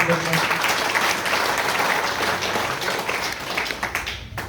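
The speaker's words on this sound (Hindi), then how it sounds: "एक बार तालियां हो जाए" Steady applause from a speech audience fills the whole stretch, a dense wash of many hands clapping that tapers slightly near the end.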